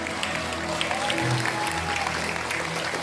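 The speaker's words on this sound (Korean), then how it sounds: "큰 박수로 맞아주시기 바랍니다" A crowd at the launch ceremony of the United Future Party applauds, a steady, dense wash of clapping that continues throughout with a faint hum and some voices beneath.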